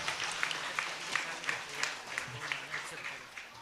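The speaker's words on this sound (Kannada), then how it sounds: "ಚಪ್ಪಾಳೆ ಶಬ್ದಗಳು ಜೋರಾಗಿ ಬರಬೇಕು" Audience clapping at a school centenary celebration, a moderate, fairly distant patter of applause with light rhythmic peaks, continuing steadily throughout with some voices mixed in.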